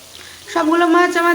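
Rohu fish slices sizzling as they are slipped one by one into hot mustard oil in a wok, the frying starting quietly and then rising into a loud, steady sizzle that holds to the end.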